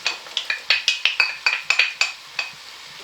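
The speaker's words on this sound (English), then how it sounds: "So it's time now to put in the onions and celery." Chopped onions and celery tipped into a pot of frying chicken, giving a run of about a dozen quick clinks and scrapes of a utensil against the pot, close and fairly loud, with a faint sizzle beneath.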